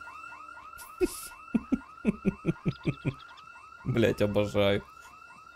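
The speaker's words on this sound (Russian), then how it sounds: "В недостройке, блядь, сигнализация" Alarm going off inside an unfinished building in Project Zomboid, a loud repeating electronic warble that cycles steadily throughout, with a voice speaking briefly over it.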